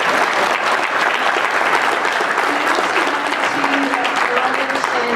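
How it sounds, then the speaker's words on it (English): Applause from the audience at a Treaty 8 political forum, a dense, steady roar of many hands clapping at once, loud and sustained throughout, with voices faintly mixed in underneath. "I just want to give a round of applause to our candidates"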